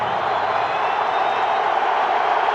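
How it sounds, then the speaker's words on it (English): A large football stadium crowd at a 1997 Cowboys versus Redskins game, a steady, dense roar of voices and cheering held evenly throughout with no break. "And listen to this crowd."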